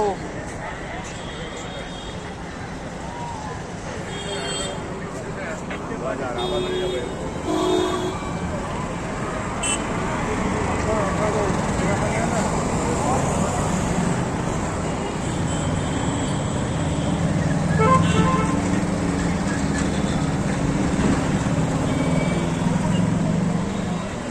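A busy road being crossed on foot, a steady wash of passing traffic close by with engine rumble and a few short horn toots, while voices talk over it throughout.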